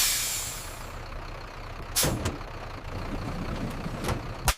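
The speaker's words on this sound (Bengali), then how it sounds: "এখন বাস থামবে।" A bus pulling to a stop, with a low engine rumble throughout and sharp hissing bursts of air brakes releasing, one loud near the middle and more toward the end; no one speaks.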